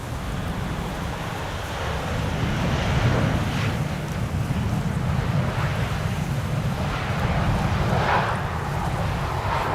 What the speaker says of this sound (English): It's definitely a bit more gusty in my opinion